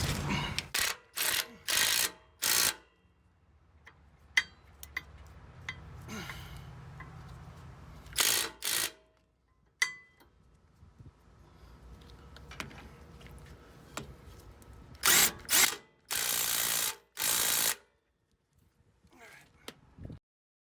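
Impact gun tightening the rear brake bolts on a 2015 Ford F-150, heard as several loud, short rattling bursts separated by quieter pauses of shop noise.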